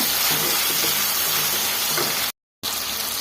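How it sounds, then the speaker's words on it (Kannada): Capsicum frying in hot oil in a pan gives a steady, close sizzle with a constant hiss, briefly cut to silence near the end before resuming. "ನೋಡಿ, ಈ ಥರ ಫ್ರೈ ಮಾಡ್ಕೊಬೇಕು."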